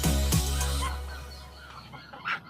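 A turkey lets out a brief, strong call right at the start, followed by a fading tail and a few faint fowl noises nearby, with no talking.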